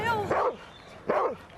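A dog barks twice in short, loud bursts about a second apart, close by during a tense indoor scene in a 1990s British rural drama.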